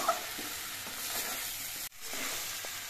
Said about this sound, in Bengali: শাকগুলো নাড়ার সময় খেয়াল রেখে খুব সাবধানে নাড়তে হবে।